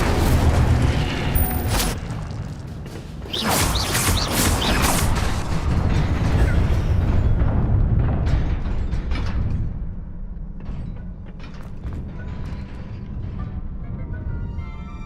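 Casting the Incendio fire spell in Hogwarts Legacy unleashes a loud whooshing burst of flame with booming crackle, settling into a lower sustained fiery rumble and scattered mechanical clicks.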